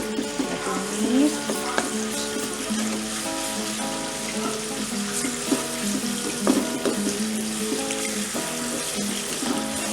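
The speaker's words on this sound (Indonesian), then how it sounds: "Kita tumis bumbunya sampai kecoklatan." Spice paste fries and crackles in hot oil in a wok as it is stirred, a steady sizzle with scraping and clinking of the utensil throughout.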